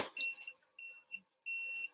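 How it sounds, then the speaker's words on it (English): An electronic device beeps in three long, high-pitched tones separated by short pauses, fairly faint in an otherwise quiet room. "that thing's been beeping a long time"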